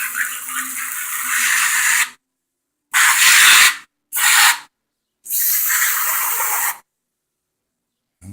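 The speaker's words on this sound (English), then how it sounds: "I'm going to go ahead and hit that with the degreaser" Aerosol degreaser sprayed onto a dirty carburetor during a refurbish, four loud hissing bursts of varying length separated by silent gaps, close to the can.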